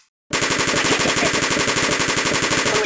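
Rapid automatic gunfire from the Kick the Buddy video game bursts in after a brief silence and continues as a loud, evenly spaced stream of shots.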